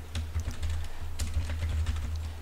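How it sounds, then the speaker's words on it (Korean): A computer keyboard is typed on in quick, irregular bursts of close, soft key clicks that continue steadily for a couple of seconds over a low background hum. "공평하게 저도 타이핑 할게요."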